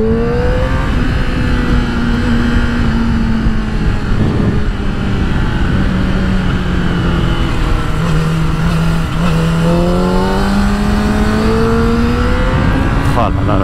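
A motorcycle engine while riding, droning steadily with a rising and falling pitch as the throttle shifts, loud and continuous for the whole stretch with wind rush underneath.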